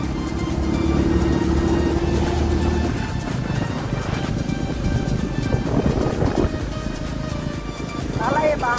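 A vehicle engine pulls hard in second gear with a loud steady drone that shifts partway through into rougher rumbling road noise, while people talk close by.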